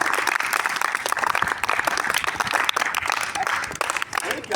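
Audience at a talk on sport and education claps for themselves, producing loud, dense, continuous applause with some voices mixed in throughout.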